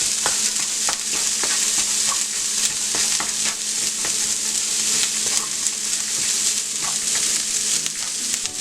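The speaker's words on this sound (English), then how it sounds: "Now we're going to go ahead and mix everything all together here." Chicken picante ingredients with chopped cilantro being mixed in a hot pan, with a constant sizzle and regular spoon scrapes roughly every second, close and steady with no talking.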